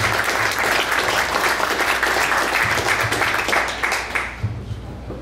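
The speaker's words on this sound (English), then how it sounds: "And with that, we'll give Ryan one more round of applause, and thank you." A crowd claps loudly and steadily, the applause thinning out and fading over the last second.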